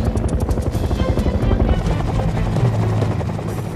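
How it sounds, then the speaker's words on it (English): Huey military helicopter flying in a stepped formation, its rotor blades thumping in a fast steady rhythm over a constant engine whine, close and prominent with no talk. "the next chopper would come in and be doing the same thing"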